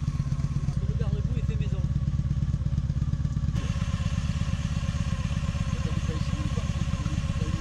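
A motorcycle engine idles close by with a steady, throbbing low pulse that continues throughout, while people talk nearby over it.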